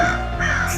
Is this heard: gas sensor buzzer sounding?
no